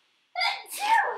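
A single sneeze bursts out close and loud in the room during a Honkai Star Rail Q&A and autograph session, in two quick surges with a breathy tail, after a moment of silence.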